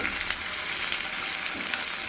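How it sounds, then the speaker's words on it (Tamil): Ginger frying in an iron pan sizzles steadily while a utensil stirs it, with several scraping strokes over the continuous crackle and no voices. "இஞ்சி போட்டு நல்லா கிண்டணும்."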